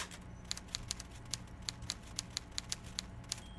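Typewriter clicks in the detective game Disco Elysium, a run of sharp, evenly spaced keystrokes tapping steadily and fairly close over a quiet low background hum, with no voices.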